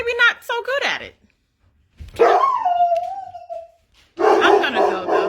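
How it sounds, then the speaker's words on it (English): A dog named in the talk barks and lets out a drawn-out howl between bursts of indoor noise, loud and close. "He's barking in my video."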